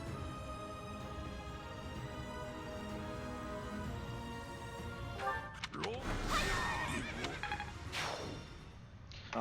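A horse neighing in the Fire Emblem video game, a whinny amid game music, followed by whooshing strikes and crashing impacts; a voice talks over parts of it.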